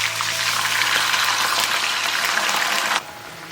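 Hot water poured into a pan where fish fried golden with garlic slices, Chaozhou home style, sets off a loud steady sizzle and bubbling that runs close and continuous, then drops abruptly quieter near the end.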